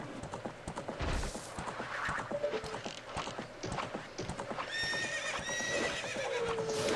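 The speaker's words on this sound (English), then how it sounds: "Get on the horse. Get on the horse." In Zelda: Ocarina of Time, a horse neighs with a high, drawn-out whinny over a steady clip-clop of hooves at a gallop, moderately close, with a game chime rising near the end.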